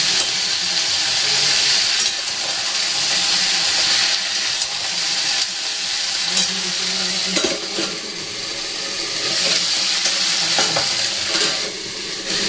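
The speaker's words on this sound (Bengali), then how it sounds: "এইভাবে মাঝে মধ্যে উল্টে পাল্টে একটু ভেজে নিতে হবে।" Winter vegetables for shukto sizzle loudly in a pan as a utensil stirs and turns them, with scraping strokes over the continuous hiss; no one speaks.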